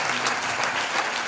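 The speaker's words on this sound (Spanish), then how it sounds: "Un aplauso para él." Brief burst of audience applause at an education award gala in Bilbao, dense clapping at full strength for just over a second with no voices on top.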